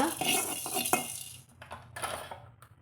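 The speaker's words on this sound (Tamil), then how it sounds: "இப்போ ஒரு அஞ்சாறு மிளகு போட்டுக்கிறாங்க அதையும் கொஞ்சம் சூடாகிற அளவுக்கு வறுத்துக்கலாங்க" Fenugreek seeds and peppercorns dry-roast in a pan for a mushroom gravy. A spoon clinks and scrapes against the metal in short bursts, faint and close, with a quieter gap between stirs.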